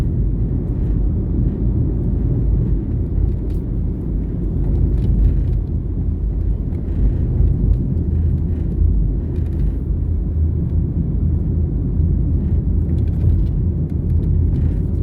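Steady road rumble from a car cruising through downtown Kingston streets via East Street, heard as a continuous, even drone with no talking over it.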